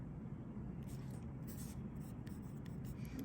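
Pen or marker strokes scratch across a writing surface as a calculus expression is written out, short faint scrapes in quick irregular bursts over a low background hum.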